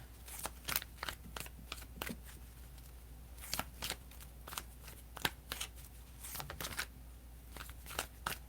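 Tarot cards riffled and shuffled by hand, then one card drawn, giving bursts of crisp, close flapping clicks spaced irregularly over quiet room tone, with no voices.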